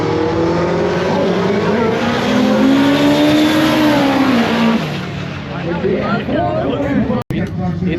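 A loud drag race engine in a lifted Crown Vic revs hard with rising and falling pitch, then drops to a rougher idle rumble, with crowd noise in the background.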